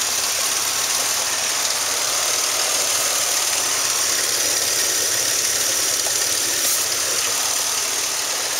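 A 2002 Mercury Mountaineer's 4.0-liter single overhead cam engine with 214,104 miles running at a salvage yard, a steady idle with a constant hiss and faint ticking, heard alone without talk.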